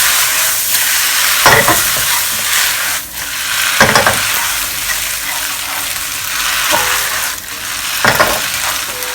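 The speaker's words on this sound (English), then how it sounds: "do a quick stir fry" Wide rice noodles (hor fun) stir-fried with soy sauce in a hot pan, a loud, continuous sizzle close up, broken every couple of seconds by the scrape of a spatula tossing them; no talking.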